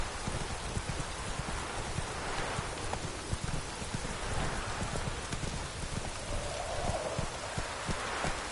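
Steady rain pours down continuously in The Witcher 3: Wild Hunt, a dense hiss with soft patters throughout and a few faint low rumbles beneath.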